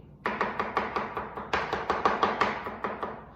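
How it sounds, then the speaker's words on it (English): Knife mincing fresh ginger on a cutting board: quick, even, crisp chops in a steady rhythm, close and clear with nothing behind them, pausing briefly before picking up again. "if you're making this at home and you have like an actual piece of ginger, you can mince that here as well"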